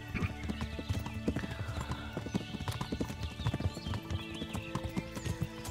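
Hooves clip-clop in a quick, uneven rhythm as a horse is ridden along a road in Kingdom Come: Deliverance, close and moderately loud over a steady game music bed, with a brief whinny.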